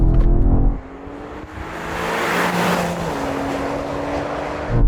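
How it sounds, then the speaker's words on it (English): BMW estate car accelerating hard in a rolling drag race, a loud close engine roar that dips at a gear change and then climbs again into a strained, rising drone. "Let's do this rolling race first."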